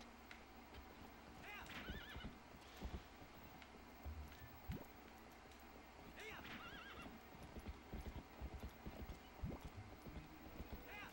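A horse in the video game The Legend of Zelda: Twilight Princess whinnies repeatedly over steady clip-clopping hooves, with someone talking throughout.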